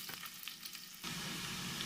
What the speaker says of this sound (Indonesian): tumis bawang merah dan bawang putih hingga harum